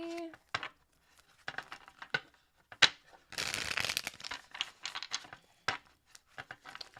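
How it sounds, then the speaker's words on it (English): Tarot cards are shuffled by hand in repeated quick riffles and taps, close and quiet, with a denser burst of card flutter in the middle and no talking. "Two more shuffles."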